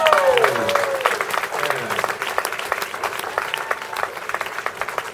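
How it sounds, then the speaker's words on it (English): Audience applause rings out at the close of a comedy-style live show, dense clapping that gradually thins and softens while a tonal sweep fades early on. "Give y'all yourselves a round of applause."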